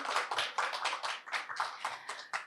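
An audience at a welfare research presentation in Incheon applauds introduced guests, with brisk, continuous clapping in uneven bursts from a medium-sized crowd, fairly near.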